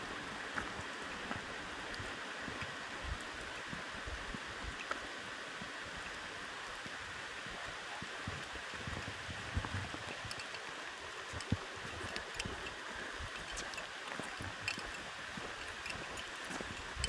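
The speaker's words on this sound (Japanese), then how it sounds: "雨降ってるから。" Steady rain falls during an outdoor walk with two Great Pyrenees dogs, a continuous soft hiss of drops spread evenly throughout with no talking.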